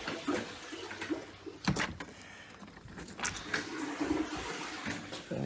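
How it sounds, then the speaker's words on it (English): A toilet in a rural family property's bathroom flushes, a rushing surge of water with a clunk of the handle and gurgling refill, close and moderately loud, with some knocks and handling noises around it. "I like to flush each toilet"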